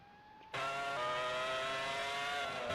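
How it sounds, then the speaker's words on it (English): A Formula 1 car's Honda engine screaming at high revs on the Austrian circuit in a racing video game, bursting in loudly after a quieter moment and holding a steady, piercing whine. "Honda engine screaming"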